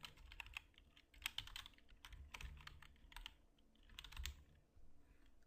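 Typing on a computer keyboard, with quiet, close, irregular bursts of clicking keystrokes and short pauses between them, alone without talk.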